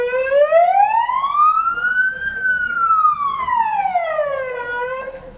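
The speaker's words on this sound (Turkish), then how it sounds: "şimdi birinci sireni çalıyoruz" Siren sounding the first alarm of an earthquake and fire evacuation drill in Van, one slow loud rising and falling wail that carries clearly with strong harmonics, with faint talk and background activity beneath.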